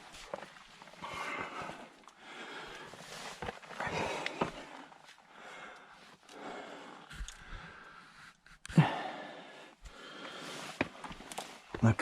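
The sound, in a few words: heavy breathing, puffing and panting while climbing a ridge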